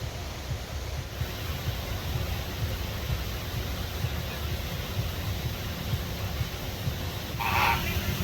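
Flamingos at SeaWorld Orlando honk and murmur in a goose-like way beneath a steady wash of outdoor noise, fairly faint and distant, with a brief louder call near the end.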